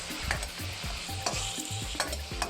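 Ginger and garlic sizzle in hot oil in a wok for a Sichuan chicken dish, with a spatula scraping and tossing in quick rhythmic strokes, close up and with no voices.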